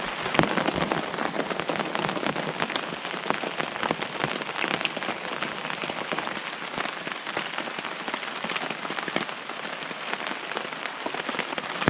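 Steady, dense rain drums on a tarp strung high above a campsite beside a River Country Trekker 2.2 tent, a close, constant patter with no voices.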